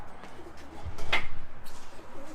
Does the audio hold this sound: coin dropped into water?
no